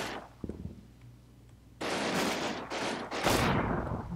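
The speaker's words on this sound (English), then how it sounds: "Maybe the machine guns will keep people down." Machine gun fire in the Combat Mission: Battle for Normandy war game, a quiet stretch with a few faint shots giving way to loud, sustained bursts of automatic fire, close and dense, with no talk over it.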